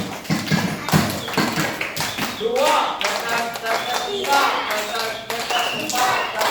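Group of campers at a one-day scout camp doing a rhythmic clapping game: short bursts of crisp, fairly close hand claps in counted sets, alternating with a voice calling out between them.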